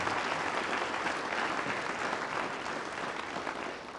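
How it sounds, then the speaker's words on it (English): Sustained audience applause for Gene Smith, Ohio State's athletic director, at a My Brother's Keeper conference session, a dense steady wash of many hands clapping that fills the room and tapers slightly at the end. "Let's hear a round of applause for Gene Smith."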